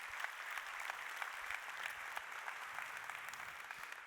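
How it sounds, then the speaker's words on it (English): A conference audience applauds steadily, dense clapping sustained throughout without pause or voices breaking through. "Could I please get a round of applause for each of those 4 categories?"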